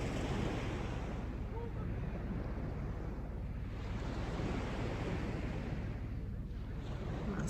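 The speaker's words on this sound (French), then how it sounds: "on profite du bruit des vagues qui nous détendent" Ocean surf roars continuously, a dense wash of crashing waves with gusty wind noise across the microphone.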